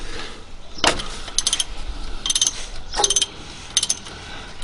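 A ratchet works loose the 16mm transmission fill-level bolt on an AU Ford Falcon, giving several short bursts of sharp metallic clicking separated by brief pauses, close by and clear.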